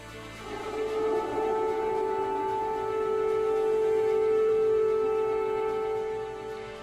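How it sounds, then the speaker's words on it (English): A long, wailing air raid siren tone rises and holds steady for several seconds over faint background noise, warning of overnight airstrikes in Kyiv. "Sirens warning civilians in Kyiv as airstrikes approached overnight."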